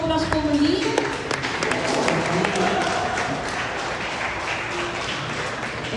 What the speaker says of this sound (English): Big round of applause po muli